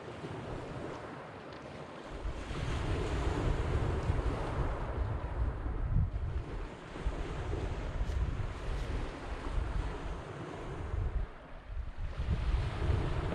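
Waves roll steadily onto Nethertown beach in Cumbria, a continuous surf wash mixed with wind buffeting the microphone, with no one speaking.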